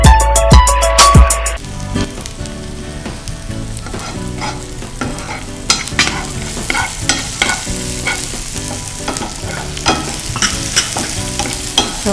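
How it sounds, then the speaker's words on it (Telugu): Mustard seeds, cumin, onions, dry and green chillies, tomato and peanuts frying in oil, a loud steady sizzle with bright crackles and popping throughout, stirred as it cooks, with no talk. "ఇవన్నీ ఫ్రై చేసేసుకుంటాం చక్కగా."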